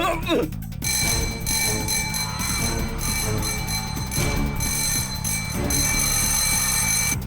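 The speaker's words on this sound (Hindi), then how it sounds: "तुम्हें घंटी सुनाई दी क्या? स्कूल छूट गया क्या?" A continuous electric school bell rings loudly for several seconds, a steady metallic clangor with faint voices underneath.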